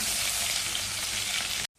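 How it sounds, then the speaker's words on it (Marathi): Crushed garlic frying in hot oil in a tempering pan with cumin and mustard seeds, a loud, steady broadband sizzle that runs unbroken and stops abruptly near the end. "आपण ठेचून घेतलेला लसूण घालूया चांगला लसूण हलवून घ्यायचा तेलामध्ये"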